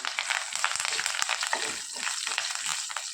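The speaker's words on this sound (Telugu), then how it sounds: "ఆయిల్ హీట్ అయిన తర్వాత జీలకర్ర ఆవాలు మినపప్పు శనగపప్పు ఎండుమిరపకాయి కరివేపాకు వేసి వేయించుకోవాలి" Cumin, mustard seeds, urad dal, chana dal, dried red chillies and curry leaves frying in hot oil, a bright crackling sizzle with spattering pops, close and continuous with no talk.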